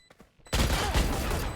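Gunfire in a competitive video game match: a few faint clicks, then a sudden loud burst of rapid shots that keeps going as a dense, sustained volley.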